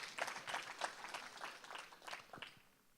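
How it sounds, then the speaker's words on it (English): A conference audience at a talk on Agile gives a round of applause, soft scattered clapping that sounds faint and somewhat distant and fades out by the end. "Okay, a round of applause"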